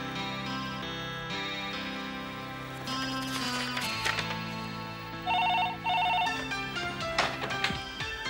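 A telephone rings with a melodic, electronic tune, its repeating tones steady and fairly loud, with no talking over it.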